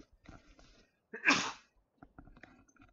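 One sharp, loud sneeze bursts out in the middle, set against quiet rustling and faint game sounds before and after.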